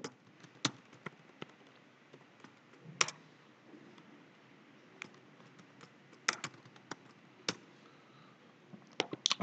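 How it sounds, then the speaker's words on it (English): Fast bursts of clicking keystrokes on a computer keyboard while a GST number is typed in, close and fairly quiet, with uneven rhythm and short pauses. "Let me type the GST number."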